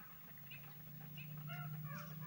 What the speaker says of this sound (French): Ça, à mon avis, c'est le gros oiseau.